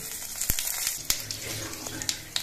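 Two bay leaves, two dried red chillies and whole garam masala of cardamom, cinnamon and cloves, with a little cumin, sizzle in hot oil in a kadai, a steady close hiss broken by sharp pops and crackles.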